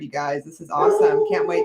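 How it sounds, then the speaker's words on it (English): A dog howls and whines in the background while people talk on a live talk show, its drawn-out tones rising and falling beneath the louder voices. "The dog is turning up in the background too."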